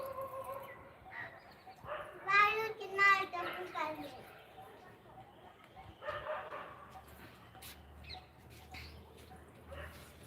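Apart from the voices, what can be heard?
dog barking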